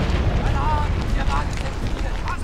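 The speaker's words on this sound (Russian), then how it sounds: "Взрыв! Бомба!" A bomb explodes in a Soviet-era counterintelligence (SMERSH) film, leaving a dense, rumbling roar of noise that fills the whole stretch at steady loudness, with faint voices and tones mixed in.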